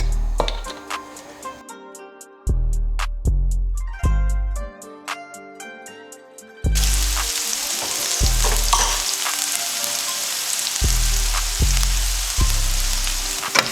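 Prawns frying in olive oil in a pan give a steady, close sizzle throughout, broken by repeated stirring scrapes, with the frying growing louder and denser in the second half.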